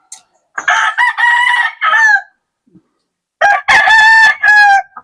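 A roundhead gamecock rooster crows loudly and close, two long cock-a-doodle-doo calls separated by a short silence.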